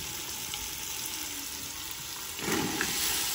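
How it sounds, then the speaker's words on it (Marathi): Soaked sago and green chili paste sizzling as it is sautéed in a pan, a soft steady frying hiss that swells louder near the end as the mixture is stirred. "शाबू आणि मिरचीचं वाटण आपण मिक्स करून परतून घेणार आहोत आधी"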